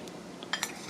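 A metal teaspoon gives two quick, light clinks against a dish while scooping finger lime pearls, close and brief over quiet room tone.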